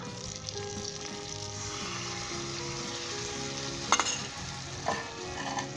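Steady loud sizzling as whisked yogurt goes into chicken frying in a karahi for white chicken karahi, with a couple of brief spoon or metal clinks near the end and no talking.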